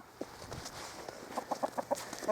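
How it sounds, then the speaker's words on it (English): Chickens cluck in a quick run of short, rhythmic calls on a scrap-metal hauling outing, moderately close over a steady outdoor background. "Messing with chickens today"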